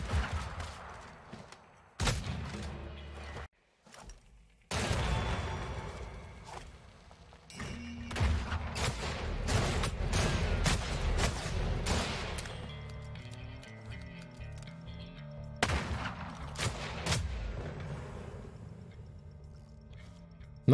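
Gunfire and exploding barrels in the video game Weird West: loud bursts of shots and heavy thuds and crashes, one after another, with brief drops into near silence and dense stretches of layered blasts.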